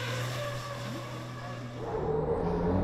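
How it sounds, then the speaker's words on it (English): A racing truck in the FIA European Truck Racing Championship at Le Mans slides sideways through the final corners, its engine a steady, droning roar with gritty broadband noise that swells louder toward the end. "Jochen Hahn takes the last few corners before the finish line with wild sideways drifts."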